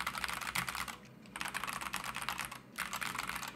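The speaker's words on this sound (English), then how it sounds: "I think these switches sound absolutely phenomenal" Quick, steady typing on a Wooting Two HE keyboard fitted with Lekker linear switches, a close run of crisp keystrokes with two short pauses and no voices.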